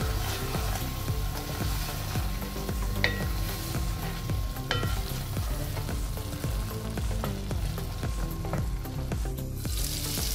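Goat brains frying in a spiced masala for bheja fry, a steady close sizzle with occasional stirring clinks of a utensil against the pan, continuous throughout without any voices.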